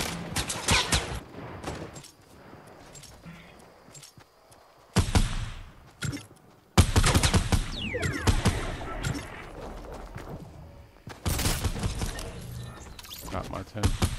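Rapid bursts of gunfire from a Fortnite Battle Royale match come in loud clusters separated by quieter gaps, with a player shouting and talking excitedly between and over the shots.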